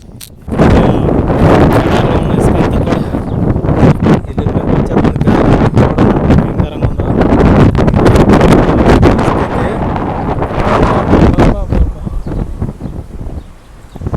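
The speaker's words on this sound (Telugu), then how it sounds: "గాలి తుఫాను ఎఫెక్ట్ చూద్దాం ఎలా ఉంది ఏంటో చూడండి కోవైట్లో పరిస్థితి" Strong sandstorm wind in Kuwait roars and buffets the microphone, loud and continuous with gusting surges throughout and scattered rattling debris, no voices.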